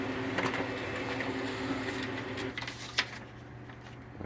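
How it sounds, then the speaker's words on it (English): An HP M402 laser printer, just repaired after a fuser error, runs a test page with a steady mechanical whir and a few soft clicks and thumps near the end. "And just do a quick test print."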